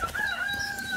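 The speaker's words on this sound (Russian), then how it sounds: "Петухи орут." Roosters crowing at dawn, loud and close, drawn-out calls layered over each other and continuing steadily with no talk.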